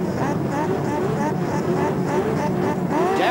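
The field of race cars launches at the start of the 1984 James Hardie 1000 at Bathurst, a dense, loud roar of many engines with rising revs, under a commentator's voice.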